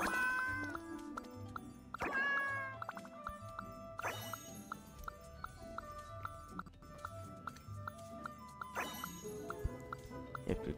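Cat meowing in Genshin Impact, repeated mews over game music with chiming tones and tinkling effects, faint in the mix.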